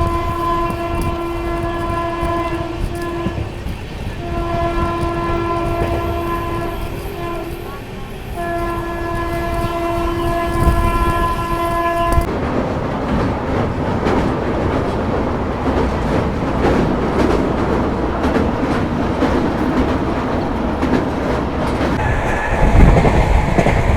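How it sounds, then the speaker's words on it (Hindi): Gondwana Superfast Express rolling on the rails, a loud long horn blast in repeated bursts over the rumble, then a steady near clatter and roar of the moving train. "अपनी गुडवाना सुपरफास्ट एक्सप्रेस को लूप कर दिया गया मुरैना रेलवे स्टेशन"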